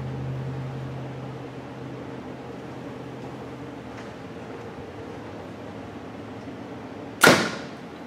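An arrow from a 29-inch-draw hunting bow is loosed through a chronograph, a single sharp, loud snap-thwack late in an otherwise quiet room with a low steady hum beneath.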